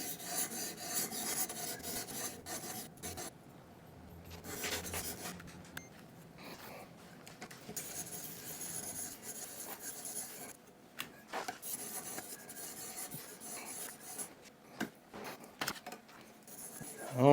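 Steady, faint scraping of a knife blade drawn across a whetstone, repeated strokes with brief pauses, moving through finer grits, low and close with little else around.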